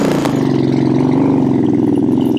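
A Royal Enfield Bullet motorcycle engine, kept for many years, runs at a steady idle close by with an even, thumping beat throughout.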